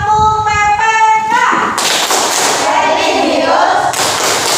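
A teacher's voice calls out briefly before schoolchildren launch into the tepuk PPK cheer, loud rhythmic group clapping mixed with chanting voices filling the room.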